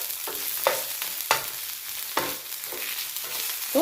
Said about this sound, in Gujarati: આદુ લસણ મરચાં સંતળાઈ ગયા છે